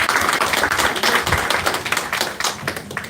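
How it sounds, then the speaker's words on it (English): Crowd at a Memorial Day picnic in Havelock claps for service members and veterans: dense, close hand-clapping that continues steadily for about three seconds with no talking over it. "Let's give them a round of applause."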